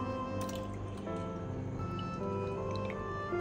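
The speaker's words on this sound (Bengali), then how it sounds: "ঠিক আগের বারের মতন তেঁতুলটাকে আবার চটকে নেব, চটকে তেঁতুলের দানাগুলোকে ফেলে দেবো।" Soaked tamarind mashed by hand to free the seeds, giving wet squelching and dripping sounds, quiet and close, with a faint tonal hum in the background.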